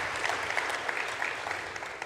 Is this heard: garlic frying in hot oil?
no